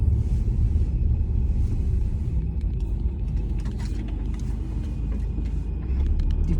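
A car drives along a mountain road, heard from inside as a steady low rumble of engine and tyres with faint road noise throughout and no talk.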